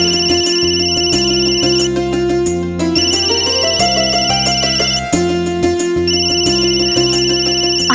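A phone's musical ringtone plays steadily and loudly for the whole stretch, a repeating melodic pattern with no voices over it.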